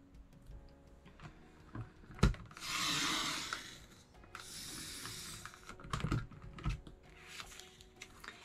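A paper trimmer cutting 12-inch cardstock for a spring card project, heard as a sharp click followed by two long, soft swishing blade strokes, then scattered taps and handling noises.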